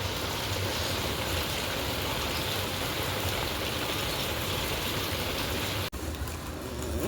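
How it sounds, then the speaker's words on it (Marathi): Steady, dense rain falling outdoors at a home, a continuous broadband hiss with no voices, briefly cut by a click near the end. "पाऊस यायला लागले."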